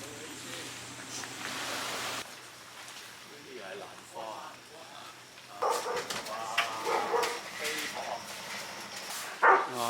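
A well-behaved dog on an outing along a rural coastal bay in Hong Kong gives a few short barks and whimpers, mixed in with people talking close by over outdoor background noise.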